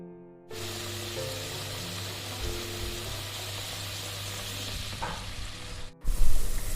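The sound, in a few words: betel leaves sizzling in ghee on a gas flame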